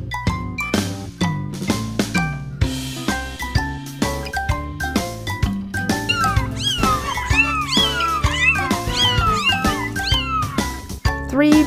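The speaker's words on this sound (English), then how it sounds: "Three black kittens are ready to play." Three black kittens meow in a children's counting read-aloud, a string of high, rising mews set against bouncy music with tinkling chimes.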